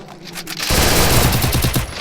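Rapid gunfire from the video game Free Fire erupts as a loud continuous burst of close shots, preceded by a few fainter pops.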